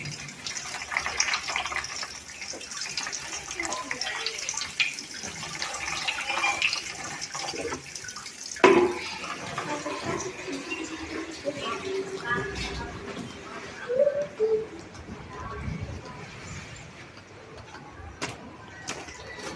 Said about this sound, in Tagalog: Kini siya nga tubig daadto pa ning sa bagyong upong nga ako gi andam nya wa na magamit so karon ako ni ihuwad